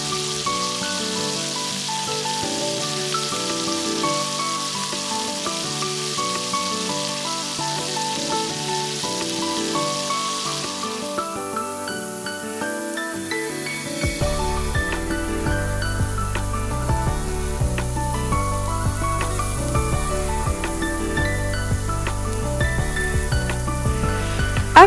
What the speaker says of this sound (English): Make sure to keep the heat medium to high throughout the entire process to avoid the steak becoming dry.